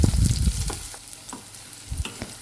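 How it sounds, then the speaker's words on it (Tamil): Small onions sautéing in a pan for beetroot sambar: a loud burst of sizzling and scraping stirs at the start, then a steadier, softer fry with a couple of later stirring knocks, no voices. "வெங்காயம் இப்போ வதங்கட்டும்."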